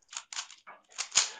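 A Rubik's cube is twisted and scrambled by hand in several quick bursts of dry plastic clicking and rattling, close up with short pauses between turns and no talking.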